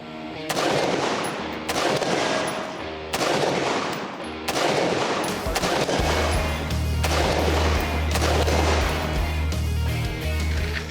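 Rifle fitted with a large two-chamber muzzle brake, fired offhand: loud, sharp shots roughly every 1.2 seconds in a steady string, each with a brief ringing tail, while a low rumbling hum sets in during the second half.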